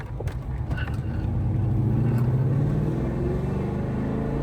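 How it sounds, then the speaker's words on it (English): A Fox body car with a small-block V8 revs in a steady, loud low rumble that swells and holds near the mic. "it reminds me of driving like a Fox body with a small block back in the old days, because it sounds like that"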